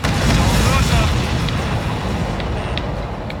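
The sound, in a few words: explosion in video game Ace Combat 7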